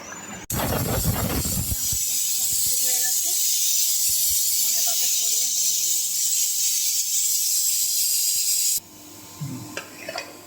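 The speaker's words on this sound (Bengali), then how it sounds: "মাছের কালিয়াটা কমিয়ে তেল দিয়ে মাছটা ভেজে দিচ্ছি" Fish fries in hot oil for Bengali fish kalia, a loud continuous spitting sizzle that runs strongly for most of the clip and cuts off near the end, with clatter at the start and brief speech at the end.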